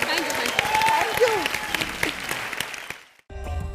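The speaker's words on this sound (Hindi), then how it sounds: "बहुत जोरदार तालियां इनके लिए।" Studio audience on a comedy talk show breaks into sustained, loud applause with cheering voices mixed in, then cuts off abruptly, leaving a brief gap before music starts.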